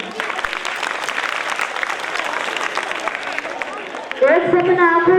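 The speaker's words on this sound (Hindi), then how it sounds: "बच्चों के लिए तालियां बजाएं।" A primary school audience claps for children at a Republic Day program, giving dense, loud applause for about four seconds before a voice and a tonal sound take over.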